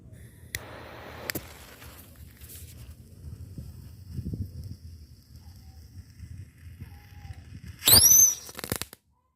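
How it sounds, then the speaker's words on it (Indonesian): A petasan tikus firecracker goes off with a sharp burst and a brief whistling fizz, preceded by a few faint pops and low wind rumble outdoors at a Christmas and New Year fireworks session. "Oke, itu dia petasan tikus."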